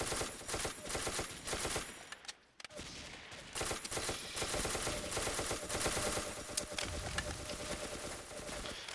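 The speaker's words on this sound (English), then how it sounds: "Switching to SMG." Rapid automatic SMG fire in the video game Ace of Spades crackles in long continuous bursts, broken by a brief pause partway through.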